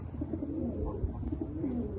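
Homing pigeon cooing in soft, repeated low coos close by, over a steady murmur of other birds and background noise.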